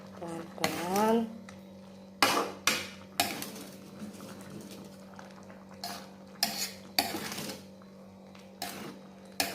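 Chicken liver and gizzard are stirred in a pan, with repeated scraping and clinking strokes of a utensil at an uneven pace over a steady background hum, close and moderately loud.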